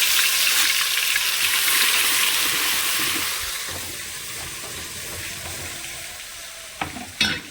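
Garlic and cumin frying in hot oil in a pan with curry leaves, a steady loud sizzle that softens slightly, with a few sharp clinks of stirring near the end.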